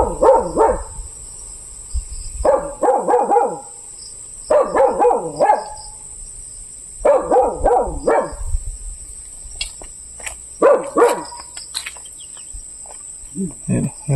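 A dog barks in repeated bursts of several yaps at a small farm hut with ducks and mango trees, fairly close, over a steady background of crickets and insects.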